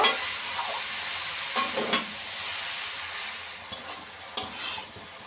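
Cabbage with chickpeas and spices sautés in a pan, a steady sizzle under several sharp spatula scrapes and clinks at irregular intervals, close and alone.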